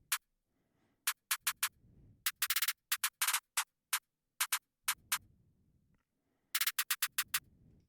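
Snare drum pattern from a trap beat made in FL Studio: sharp, bright snare hits in clustered rolls and bursts, with short low rumbling layers between some groups, alone and fairly loud.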